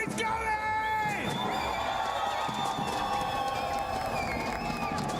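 A large crowd in a Paris arena cheers and whoops loudly, a dense roar of voices with shouts and whistles rising over it that holds steady throughout.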